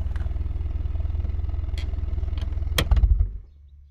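A car engine idles steadily, then cuts out abruptly when a kill switch in the back is hit, leaving a clatter and near silence.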